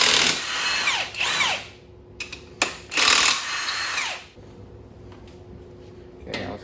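Power drill or impact tool spinning out the main bearing cap bolts on a damaged 2013 Ford Taurus SHO engine, loud whirring bursts with rising and falling pitch, a few short clanks between, then quiet workshop hum.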